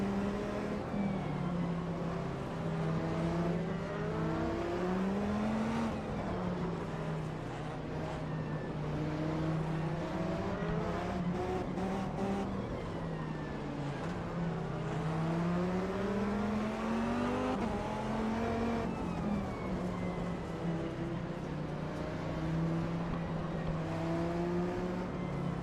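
Several GT race car engines from the 2005 endurance series in Automobilista 2 roar continuously, revving up and down through gear changes, with overlapping cars close by and brief tire squeal.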